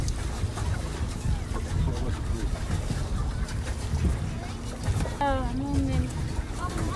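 Low steady engine drone of a boat on the water in Croatia, with voices talking over it and a short rooster-like call near the end.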